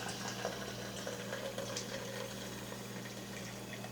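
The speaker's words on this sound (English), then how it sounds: "And now we're straining it a second time." Homemade bone broth trickling through a cloth strainer into a pitcher, a steady soft pour and gurgle that runs unbroken at low volume.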